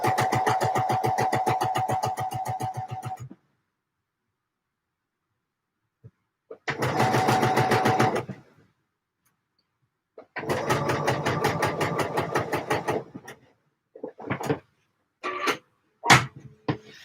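A home sewing machine runs in several rapid rattling bursts while stitching Vogue 8997 pattern pieces, close by, with silent gaps and short stop-start taps toward the end.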